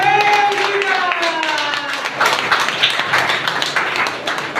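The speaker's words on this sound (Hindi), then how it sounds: "ताली बजाकर धन्यवाद करें।" A congregation at a Hindi-language church service claps hands in thanks, a dense, steady patter of many palms filling the whole stretch, with a sung or spoken voice trailing off at the start.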